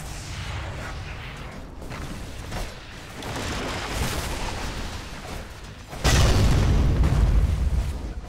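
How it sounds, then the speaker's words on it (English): A Dota 2 tower collapsing amid battle, rumbling booms and crumbling debris that swell into a louder heavy crash near the end. "Radiant's middle tower has fallen."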